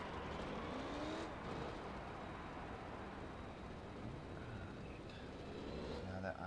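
A Cobra and a Camaro race on a track; their engines come through as a distant, steady drone with faint passing swells, under a continuous noisy backdrop and murmuring voices.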